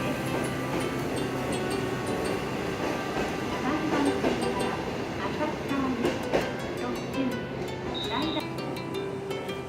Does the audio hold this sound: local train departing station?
yes